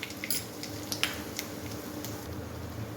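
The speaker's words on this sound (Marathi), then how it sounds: "आता हे वाटण तेलामध्ये छान असं परतून घ्यायचं." Ground spice paste sautéing in oil over a tempering of popped mustard seeds and turmeric, giving a faint, steady sizzle with occasional small crackles and a stray utensil tick, with no talking.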